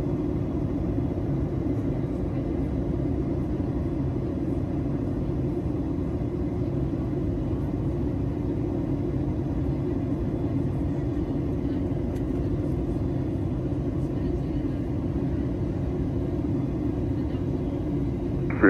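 An airliner on approach to land at Seattle-Tacoma Airport, with a steady, unbroken low engine and cabin drone holding at an even loudness throughout.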